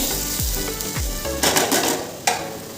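Garlic and dried chillies frying in hot oil in a home kitchen, a loud continuous sizzle with several bursts of crackling and spatter and a couple of scraping stirs of a utensil against the pan.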